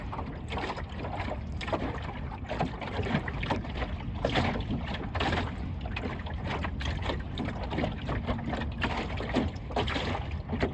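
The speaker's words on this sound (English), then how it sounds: "The breeze has stiffened a little." Steady breeze rushing past a small sailing boat on open water, constant and broadband with slight gusting and water wash, no talking.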